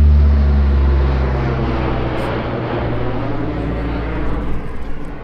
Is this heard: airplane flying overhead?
yes